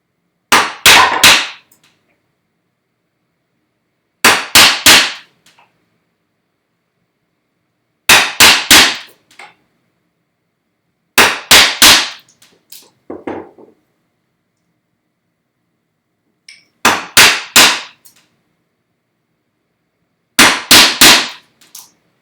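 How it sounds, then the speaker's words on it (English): Chisel chopping into softwood for bookcase joinery, struck in six separate bursts of quick sharp mallet blows spaced a few seconds apart, loud and close with no talking. "I have to be much more exacting in where I place my chisel. It's got to stay within the lines now."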